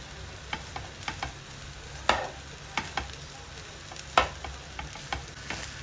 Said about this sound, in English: And we continue stir frying the rice.